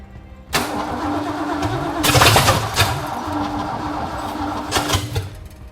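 A Ford engine cranks and fires after a carburetor change, then runs at a rough idle, its revs surging loudly a few times with no speech over it.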